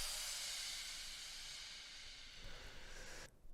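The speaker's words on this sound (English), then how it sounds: "It's just the original Crash sample that I added a pitch envelope to." A single bright crash cymbal sample with a pitch envelope, its hissing wash decaying and bending in pitch, then cutting off abruptly.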